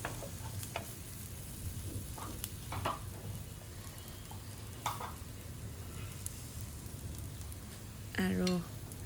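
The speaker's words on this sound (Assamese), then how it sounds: "একদম কম জুইত ভাজিব লাগিব পিঠাবোৰ" Patishapta pitha batter fries on a round nonstick pan over a very low flame, giving a steady soft sizzle with occasional scraping and stirring taps.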